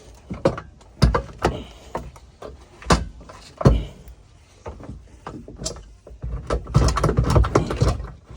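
A ratchet loosens a bolt on the engine of a 1998 Seadoo Speedster during engine removal, with close metallic clicks and clunks in irregular bursts, followed by a denser stretch of rattling near the end.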